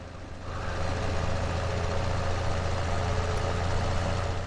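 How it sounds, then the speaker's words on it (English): A tractor engine idles in a farming video game, a steady low rumbling drone that swells slightly at the start and then holds even and continuous, with no talk. "Let's get our tractor ready just in case he stops."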